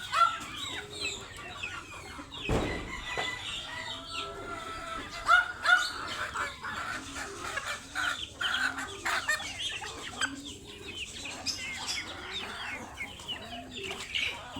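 On a small farm with chickens, ducks and other fowl, a dog barks now and then amid constant clucking and bird calls, with faint voices in the background.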